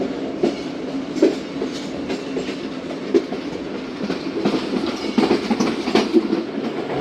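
Tezgam passenger train rolling through a railway station, wheels clattering in steady rhythmic clickety-clack with periodic louder knocks, moderately close and continuous throughout, no voices.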